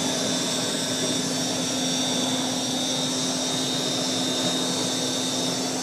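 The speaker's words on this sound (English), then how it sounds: "It doesn't roar or hiss, it just whooshes." A 1940s Eureka Roto Matic Model 800 vacuum cleaner runs steadily nearby, a smooth whooshing airflow over a constant low motor hum, with no voices.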